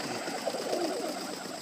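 Young Portuguese tumbler and Egyptian swift pigeons coo softly in their coop, low, murmuring calls over a quiet background hum.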